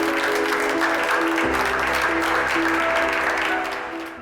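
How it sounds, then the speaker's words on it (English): Dense, steady clapping sounding like a crowd applauding, continuous and fairly loud with a low hum and tonal music underneath, tapering slightly at the end. "I'll clap."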